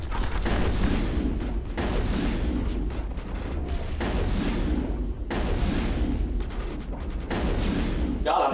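Sustained assault rifle gunfire in a Mass Effect firefight, a dense continuous rattle of rapid shots with booming impacts, loud and close, running through the whole stretch with brief dips around the middle.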